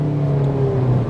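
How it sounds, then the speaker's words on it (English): A 2021 Hyundai Venue with a CVT accelerates hard, its engine droning at a steady rising pitch, loud and close from inside the cabin. "I'm gonna give it a burst of acceleration now"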